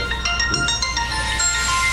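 A telephone rings during a village environmental commission meeting, a series of high electronic trills in quick succession, fairly loud over room noise and a brief murmur of voices.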